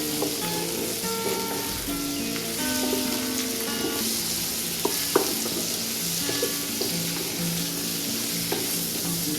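Onion, potato and pumpkin pieces fry in a pan with a loud, steady sizzle, marked by occasional stirring clinks and scrapes, close up with no talking.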